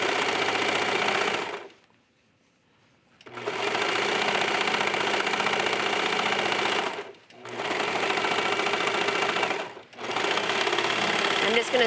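A serger runs fast and loud while finishing the fabric edge of a sports bra and tank top with ribbed trim, stopping briefly twice for short gaps before buzzing on again.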